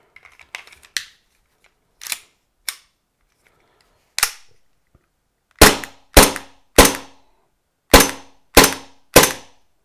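A gas-powered Tokyo Marui USP Compact airsoft pistol fitted with a heavier upgraded slide fires about nine sharp, snappy shots. A few quieter clicks come first, then louder cracks arrive in an uneven rhythm that quickens toward the end, each one dying away fast in a quiet room.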